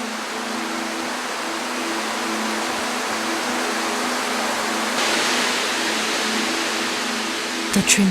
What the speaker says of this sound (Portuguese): Nosso pesquisador está nas cataratas Shirai Tonotaki, um manancial bem conhecido nas encostas no Monte Fuji